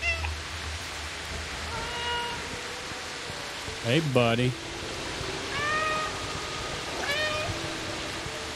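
Cat meows from the video game Stray, a few short mewing calls spread across the clip over soft rain-like ambience, with a voice speaking briefly near the start.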